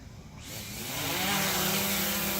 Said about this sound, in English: we're going to be taking our maiden flight here with the Mavic 2 Pro